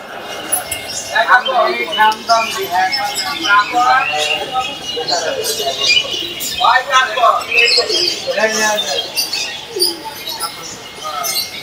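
Assorted caged birds in a pet shop that also sells aquarium fish twitter and chirp in quick overlapping calls throughout, mixed with background voices and shop bustle.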